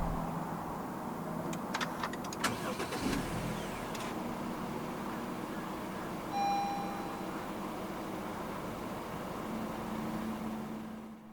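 Faint clicks and a short electronic beep come from inside a 2022 Honda CR-V 2.0 at push-button start, then the engine settles into a quiet, steady idle.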